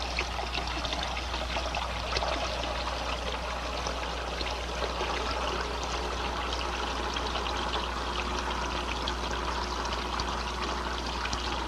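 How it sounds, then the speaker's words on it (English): Water bleeds steadily from a manifold in a laboratory fluid flow experiment, a loud continuous rushing trickle that holds even throughout with no voices. "I'll reduce the volume flow at successive sections by bleeding water from the manifold."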